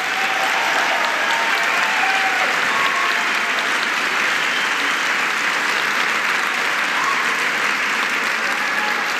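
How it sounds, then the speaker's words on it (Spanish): Large crowd at an official ceremony for Pan American Games athletes giving loud, continuous applause for their families, a thick, unbroken roar of clapping at full strength throughout. "un aplauso muy fuerte a sus familias por todo lo que hacen."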